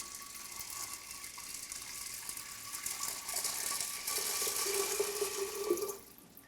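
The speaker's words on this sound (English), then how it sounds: "I add clean beans to a pot and soak them with at least 3 times the amount of water." Water runs steadily into a pot of dry beans for soaking, a continuous close splashing stream that grows fuller and louder toward the end before cutting off.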